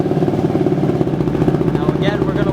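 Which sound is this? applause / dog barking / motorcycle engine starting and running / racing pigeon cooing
motorcycle engine starting and running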